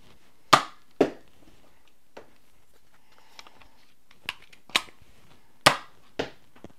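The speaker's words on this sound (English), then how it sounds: "I can throw the blaster harder than it can shoot" A cheap toy foam blaster fires its darts in sharp, dry pops. The shots come in irregular pairs and singles, close and fairly quiet, with near silence between them.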